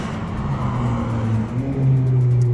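A car cruises past on a race track during a track day, its engine humming in a steady low drone that lifts slightly in pitch as it goes by, not driven hard.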